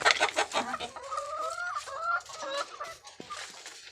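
Chickens cluck and squawk in a lively, close barnyard chorus: a cluster of sharp clucks, then a few drawn-out, wavering calls, and scattered clucks fading toward the end, with no talking.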